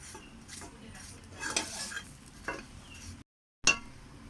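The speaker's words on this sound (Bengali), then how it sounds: "এই পাশটাও তেলটা লাগিয়ে নেব।" Oil being spread over a paratha on a hot pan in a village Bengali kitchen, giving soft scraping strokes and a low sizzle with a few clinks, close and quiet, with a brief dropout near the end.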